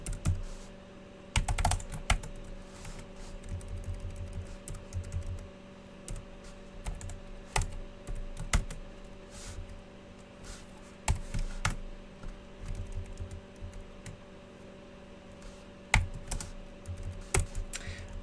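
Typing on a computer keyboard during a programming lecture: quick, irregular clusters of key clicks, some louder taps, close up over a steady low electrical hum, with no talking.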